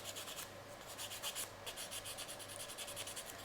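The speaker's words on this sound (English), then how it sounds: "Let's also sand like these little things down." Hand sanding of small plastic model parts, rapid rhythmic scratchy strokes, close and fairly quiet, with no talk.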